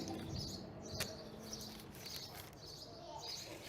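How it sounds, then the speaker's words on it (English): Birds chirp outdoors at a deli patio in the Great Smoky Mountains, a few faint tweets rising over soft ambient murmur and distant background noise. "You can probably hear the birds."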